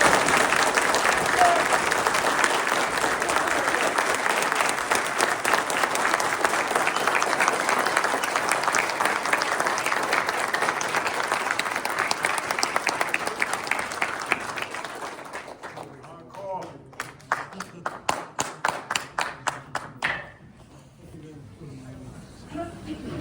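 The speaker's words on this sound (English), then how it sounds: "I wanna hear this building trembling by applause them so loud" A crowd in a fraternity hall claps in sustained, loud applause for about fifteen seconds. It then thins into scattered individual claps and falls silent.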